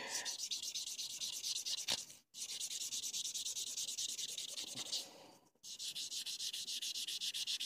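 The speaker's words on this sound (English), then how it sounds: "coarser side of the buffer, and buff it down, make it nice and smooth." Nail buffer rubbed on a plastic swatch stick to smooth off old gel polish, a steady close scratchy sanding rasp in rapid strokes, with two brief pauses.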